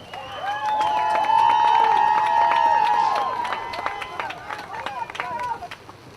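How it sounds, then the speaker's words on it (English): A crowd at a girls' varsity soccer championship trophy presentation cheers with a sustained shout and scattered clapping. The cheer starts loud and swells, then fades into looser applause and babble. "Let's have another round of applause from Haverling."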